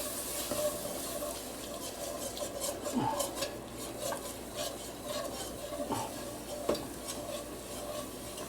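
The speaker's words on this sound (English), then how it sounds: "add just 1 cup of milk to start off with. Add a little bit at a time. Get a good stir in." Milk being stirred into creamed chipped beef in a pan, with a soft steady scraping and swishing and occasional spoon taps on the cookware, close and quiet.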